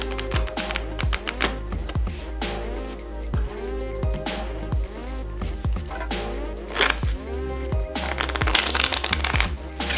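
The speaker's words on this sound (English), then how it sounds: "Shuffle the cards so that the kings and ladies stay where they are" A deck of playing cards shuffled by hand during a card trick, giving repeated crisp riffling flutters and soft slaps close up, with no talking.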